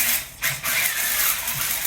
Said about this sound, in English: I'm going to use a dingle ball hone to try and clean up that rust